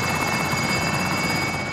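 A helicopter in the video game Call of Duty: Modern Warfare thrums steadily and loudly, its rotor drone filling the whole short stretch with no talk.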